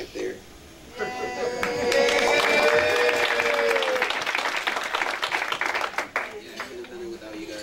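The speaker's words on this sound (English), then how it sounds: "Thank you, everyone, for your applause again." An audience at a civil rights talk breaks into applause that swells quickly, stays full and steady for several seconds, then thins into scattered claps, with voices rising over it.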